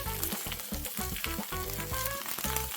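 A cheese-filled quesadilla loaded with chicken, shrimp and beef crackles and sizzles in a hot pan, a steady, close frying hiss with faint rhythmic scraping, no voices.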